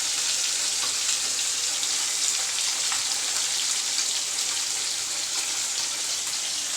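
Fish frying in a pan gives a steady, dense sizzle with crackling spatters, continuous and close throughout, with no talking.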